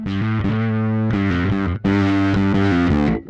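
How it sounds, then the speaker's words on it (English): Bass guitar through a Darkglass Kaamos pedal set to its bright distortion drive: a short run of gritty, buzzing, harmonically rich notes played alone, with clean stops between phrases. "So on one extreme, sort of a bright distortion"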